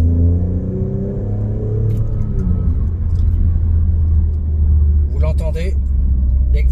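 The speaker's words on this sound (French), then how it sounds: "les 520 chevaux de ce fabuleux V6 90 degrés biturbo se font entendre" 2024 Alfa Romeo Stelvio Quadrifoglio Super Sport with a 520 hp 90-degree twin-turbo V6, giving a deep, steady engine rumble beneath someone talking close by.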